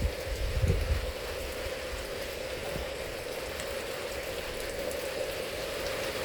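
Rain falls steadily outside a horse stall, a soft, even hiss of drops on surfaces, fairly faint and continuous with a brief low thump near the start.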